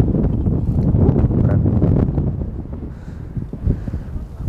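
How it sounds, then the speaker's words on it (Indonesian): Strong wind buffets the microphone while crossing the Bromo sand sea on an automatic scooter, a loud, continuous rumbling roar that eases slightly toward the end. "anginnya gede banget ini"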